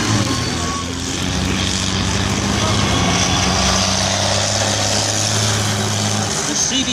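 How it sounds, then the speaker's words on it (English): A Scorpion tank (CVR(T)) driving and making a high-speed turn, its engine giving a loud, steady, rumbling drone with a constant mechanical whine throughout, heard close and without pause. "that's how you go out steering a Scorpion tank"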